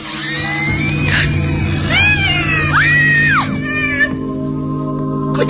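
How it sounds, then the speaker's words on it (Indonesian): A black cat meows loudly in a series of drawn-out, wavering cries, close and prominent, set against a low hum in a radio horror drama. "kucing hitam itu meloncat keluar dari kamar mandi"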